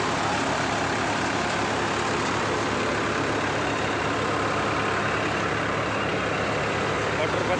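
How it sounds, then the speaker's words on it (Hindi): A New Holland 3600-2 50 hp tractor working a cutter produces a dense, unbroken mechanical drone with a low engine rumble and broad grinding hiss, steady and loud throughout. "new Holland 3602 50 horse power"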